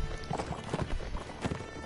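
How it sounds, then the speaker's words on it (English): Horse galloping in the video game Mount & Blade: Warband, with rapid, loud clip-clop hoofbeats close by amid battle noise. "He's on a horse."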